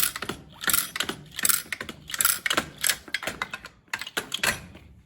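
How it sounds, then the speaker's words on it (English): A Harbor Freight Pittsburgh wheel dolly is lowered by pumping its lever, giving a rapid series of close mechanical clicks and ratcheting clacks in an uneven rhythm with short gaps between strokes. "To lower it down, you just flip the lever down, and then pump it back down."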